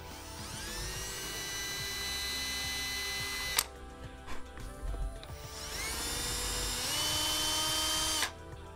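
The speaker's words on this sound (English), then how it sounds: "We don't want to drill too deep," A power drill drills out rivets on a Graf Supra 700 hockey skate, whining steadily up close, then pausing briefly with a few clicks before spinning up again and stopping.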